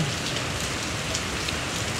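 Steady, dense rain pouring down, a continuous broadband hiss with no pauses, close and fairly loud.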